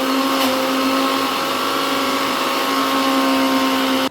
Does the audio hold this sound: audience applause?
no